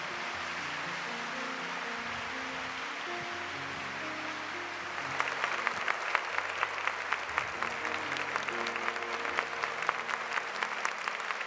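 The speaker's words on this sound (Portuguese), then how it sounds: "Então aplauda o Senhor por isso." Congregation in a church clapping together, a sustained mass of hand claps that swells louder and sharper midway, with organ or keyboard chords held underneath throughout.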